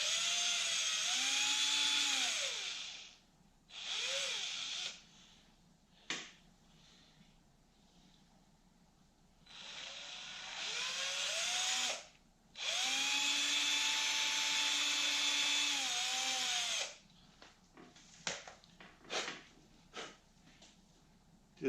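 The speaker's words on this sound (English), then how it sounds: "I drill a little pilot hole with a teensy drill bit." A small power drill with a tiny bit boring a pilot hole in a homemade wooden fishing lure, several whining bursts of a few seconds each, close, separated by quiet gaps and short clicks.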